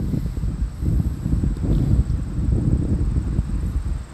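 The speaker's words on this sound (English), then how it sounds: "So windy." Wind buffets the microphone outdoors at a car show in Wampsville, a loud low rumbling roar with uneven gusts throughout.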